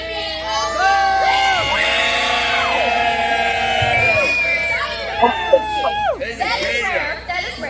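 Crowd at an SNPW wrestling event: a loud, sustained wash of cheering, whooping and shouting voices that fills the scene, then fades into scattered shouts and chatter.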